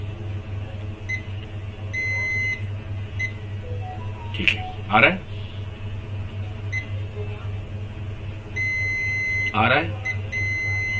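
A multimeter gives short, thin beeps while probing a dead circuit board that has had its shield removed. The beeps come in two bursts, and someone speaking Hindi talks close by over a steady electrical hum.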